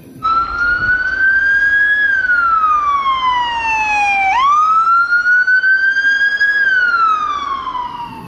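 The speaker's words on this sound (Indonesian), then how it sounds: "ini mobilnya ambulan" A toy ambulance siren wails in a smooth rising and falling electronic tone, close and loud, sweeping up and down twice without any talking.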